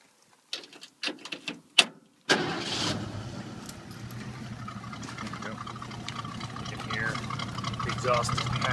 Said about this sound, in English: I'll actually start it up.